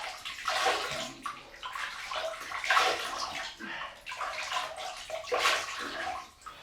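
Tap water runs and splashes close by in a sink while the face is wetted before a shave, in steady gushes that swell and ease.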